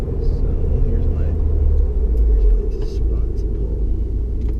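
A 2015 Subaru WRX tuned with a Cobb Accessport Stage One map drives along, its engine giving a steady low rumble with road noise throughout, while someone talks over it.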